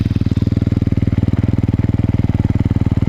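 An enduro motorcycle engine idles close by with a fast, even, loud thumping pulse that holds steady throughout, with no talk.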